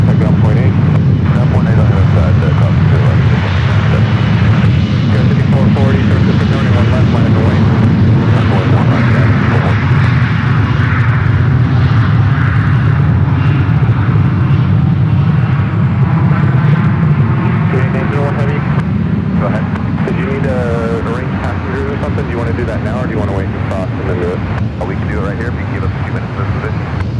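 An airliner takes off at San Francisco airport, its engines roaring loud and steady for the whole stretch with a deep rumble and whining tones, while a voice talks over it.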